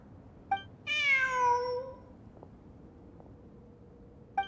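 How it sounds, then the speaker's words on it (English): A cat in the Genshin Impact video game gives one clear, drawn-out meow, near and loud, framed by faint clicks and quiet ambience. "Look! A cat!"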